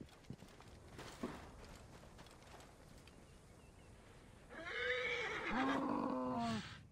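A horse in the video game Assassin's Creed Origins, a few faint hoof clops followed by a clear, fairly close neigh and whinny near the end, with no talk.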